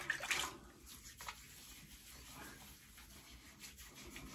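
Running water splashes and rubs as shaving lather is rinsed off, a steady close trickle with scrubbing, no talking.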